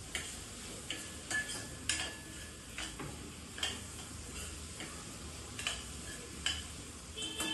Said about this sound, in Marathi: लसूण पण त्याच्यामध्ये भाजून घ्यायचं आहे चांगला.